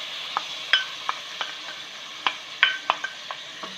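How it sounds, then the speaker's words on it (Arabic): Chicken frying with onion, garlic and tomatoes in a pan, a steady soft sizzle under scattered close stirring clicks and spoon taps, no voices. "نقلي حتى يدبر كاع داك البصل، الثوم مع الطوماطيش"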